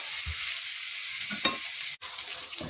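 Bell pepper stewing in a pan for braised cabbage, with a steady sizzle and simmer and a few soft stirring scrapes, close and moderately loud with no talking.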